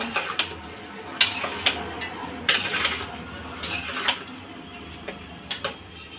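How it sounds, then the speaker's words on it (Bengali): Chopped onions are stirred and mixed with ground cumin in a pan for a Bengali bean dish, with a spoon scraping and clinking against the metal in irregular, sharp taps over a low background hiss. "সঙ্গে কিছু পেঁয়াজ কুচি এখন একসঙ্গে লেগে চেড়ে মিক্স করে নেব"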